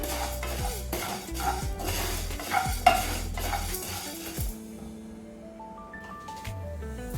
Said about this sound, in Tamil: அதனால நான் எல்லாமே தனித்தனியாக தான் வறுக்க போகிறேன்